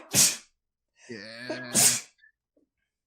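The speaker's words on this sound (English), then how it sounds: "I'm about to sneeze. This is gonna suck." Two sharp sneezes from a person, one at the start and a second about a second and a half later, close and loud, with a short voiced sound between them.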